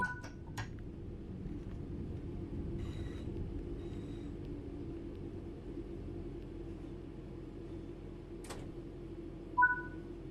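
A low, steady rumble of a train braking in Train Sim World 5, with a few short high metallic squeals and clicks scattered over it.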